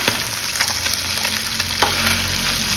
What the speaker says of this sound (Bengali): এখানে আমি মাছের মাথাগুলোকে একদম ধুয়ে নিয়ে ভাজা করছি